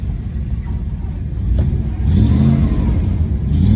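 A Triumph Stag engine with a suspected blown head gasket idles with a low rumble, then rises in a throttle blip that swells and holds, loud and close.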